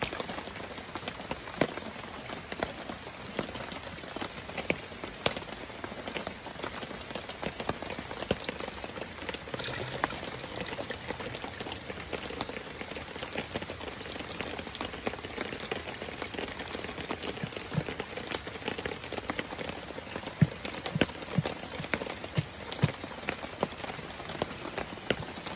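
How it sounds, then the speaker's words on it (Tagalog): Steady rain pours down on a farm, a dense continuous patter of drops striking surfaces with scattered sharper splashes, constant and moderately loud for the whole stretch, without talking. "Ambot lang og muhunong ba ning ulan."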